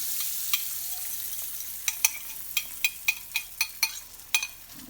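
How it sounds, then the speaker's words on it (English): An egg frying in melted butter in a pan, with a soft steady sizzle and a run of sharp crackles and spatters toward the end, close and alone. "We're going to add the egg to the pan."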